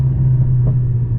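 A 2023 Mercedes-AMG CLA 45 four-cylinder engine gives a short, steady, close low drone with a deep rumble and no talking.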